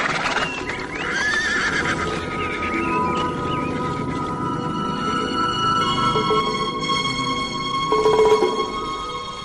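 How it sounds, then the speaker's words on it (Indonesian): Tired horse neighs loudly in a long whinny with hoofbeats clopping beneath it, and a second stretch of whinnying follows near the end. "Kuda ini sudah terlalu capek."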